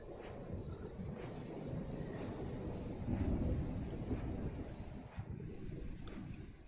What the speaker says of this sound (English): Looks like the storm's calmed down a little bit in here, doesn't it?